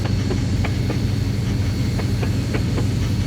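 Train in the Mashinky video game rolling along rails, a steady rumble with regular clickety-clack beats from the wheels over rail joints, alone and without talk.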